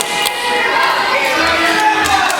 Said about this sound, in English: these fans here in Dagenham are willing him on